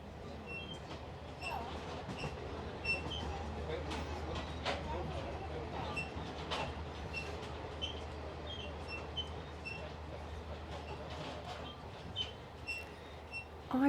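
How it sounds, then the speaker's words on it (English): An old-fashioned downtown train on the line to Mombasa trundles slowly between stations, giving a steady, continuous low rumble with faint scattered clicks and squeals throughout, no voices present. "there's an old-fashioned train that trundles along very slowly from one station to another"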